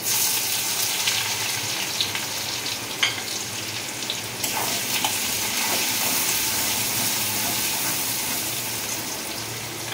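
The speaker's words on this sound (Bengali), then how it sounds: "তেলটা গরম হয়ে গেছে, এরপরে আমি দিচ্ছি পেঁয়াজ" Onions hit hot oil in a pan for an egg-posto dish and sizzle loudly and steadily in a close, bright hiss that flares up partway through, with no talking.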